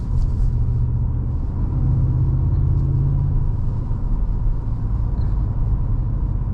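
A 2026 Ford F-150 Lobo pickup truck accelerating, heard from inside the cab as a steady, loud low engine rumble with road noise, holding an even level throughout and no talk over it.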